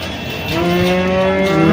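A cow gives a long, loud moo close by at a weekly cattle market in Nashik, rising and holding its pitch, with faint background bustle.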